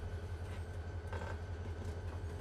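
A locomotive in the Run8 Train Simulator game, a coal switcher working a California plant, begins to move with its throttle at the first notch: a steady low diesel rumble and drone, fairly loud and continuous, with faint rail clatter and no talking.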